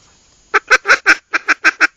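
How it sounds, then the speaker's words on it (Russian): A Foiles Timber Rattler duck call is blown in eight short, sharp honking quacks, grouped four and four, close and loud against near silence. "пускаете воздух в манок."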